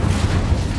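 A low, booming burst from the Incendio fire spell in the video game Hogwarts Legacy, one loud, dense rumble that fills the short moment with no pause.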